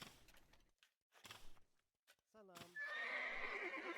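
Scout cavalry horse from Age of Empires II gives a sharp whinny near the end after a few scattered clicks and hoof-like taps, with commentators' voices faintly underneath.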